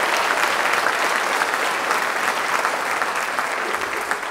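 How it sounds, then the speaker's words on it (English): An audience at a school district strings concert gives dense, sustained clapping for a fourth-grade group, steady and close before easing slightly at the end. "Let's give another round of applause for fourth grade."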